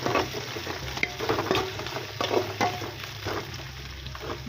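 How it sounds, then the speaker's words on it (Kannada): Chopped onions frying in a pan, a dense, steady sizzle and crackle with frequent quick scraping stirs of a spatula, close and fairly loud throughout. "ಈಗ ಹಚ್ಚಿಟ್ಟಿರುವ ಈರುಳ್ಳಿಯನ್ನು ಹಾಕೋಣ. ಈರುಳ್ಳಿ ಚೆನ್ನಾಗಿ ಫ್ರೈ ಆಗಲಿ."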